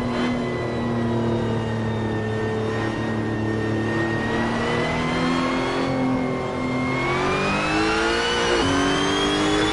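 Race car engine in Assetto Corsa revs loudly and steadily, with a whining gearbox tone rising and falling through shifts, close and continuous throughout with no talking.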